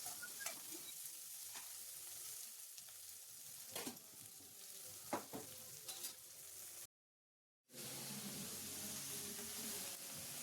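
Soaked, unboiled chickpeas sizzle and roast in a pan after onions have been well fried, with a steady frying hiss broken by scattered stirring scrapes and a brief silent gap partway through.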